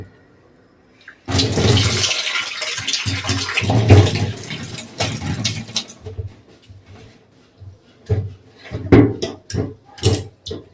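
Rice for payesh is washed in water, with loud sloshing and pouring at the start, then a series of separate splashes and swishes as the grains are rubbed and rinsed by hand.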